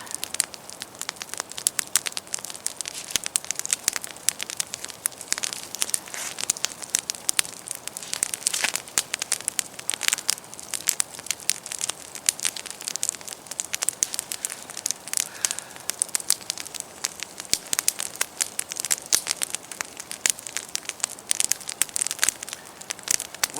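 Campfire burning in a damp forest, with dense, steady crackling and snapping pops close by throughout, no voices.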